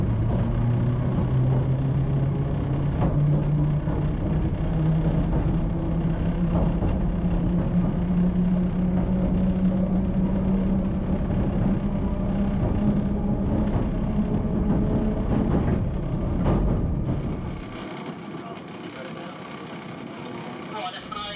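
Interior of a 1938-era Isle of Wight train in motion: a steady loud rumble and rising motor whine from the carriage over the bumpy track, easing to a quieter idle near the end as the train slows.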